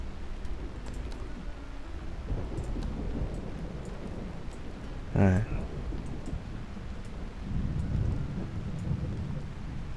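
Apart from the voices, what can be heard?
rain and thunder in Tavern Master video game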